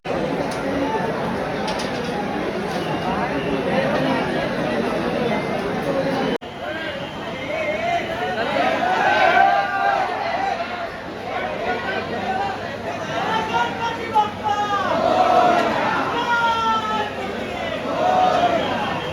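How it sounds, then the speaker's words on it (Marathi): A large crowd packed together at the Lalbaugcha Raja darshan in Mumbai, chattering in a dense, continuous babble close around, with a few nearer voices standing out. "एकदम फुल गर्दी इकडे"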